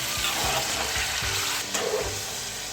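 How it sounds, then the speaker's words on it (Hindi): Mutton for Peshawari namkeen karahi frying in hot oil, a steady loud sizzle and crackle that runs throughout, with occasional stirring scrapes beneath it. "अब गोश्त को यहाँ पर हम ऑयल में भूनते रहेंगे जब तक कि गोश्त का जो कलर है वो अच्छे से चेंज ना हो जाए।"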